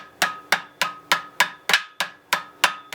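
A hammer peens over an aluminum rivet on a firehose canvas ax sheath with sharp metallic taps, about nine evenly spaced blows in quick steady rhythm, close and crisp with no talk.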